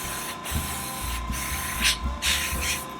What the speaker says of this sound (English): It's also very important to do it in streaks and not in one spray.